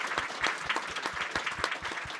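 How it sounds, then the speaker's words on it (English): Lecture-hall audience applauding the speakers at a university science lecture, a steady, dense patter of many hands clapping throughout, moderately close, with no voices over it. "I'd like just to give them an enormous round of applause"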